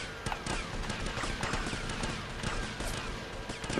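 Gunfire in Grand Theft Auto: Vice City The Definitive Edition crackles as a dense run of quick shots mixed with other game sounds, steady and fairly loud throughout.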